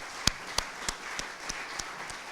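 Scattered, slow handclaps from a small audience at an Italian book presentation-performance, about seven distinct claps spaced roughly evenly over a couple of seconds, fairly close and sparse rather than a full ovation.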